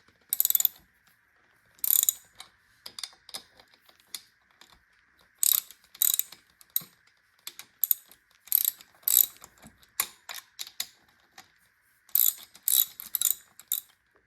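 A ratchet fitted with a 10 mm socket loosens the front fork bolts on a Honda XR250L motorcycle, giving short close bursts of rapid clicking separated by quiet gaps, heard alone with no talk.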